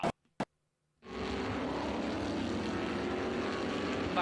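A vintage race car heard onboard during a Trans-Am style vintage road race at Mid-Ohio, engine and gearbox droning loud and steady after a couple of brief clicks and a second of near silence.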